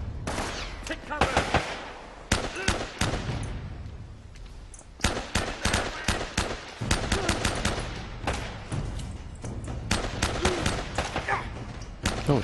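Gunfire in Uncharted: Drake's Fortune rattles in repeated bursts and single shots throughout, with loud automatic volleys mixed among game sound effects and background music.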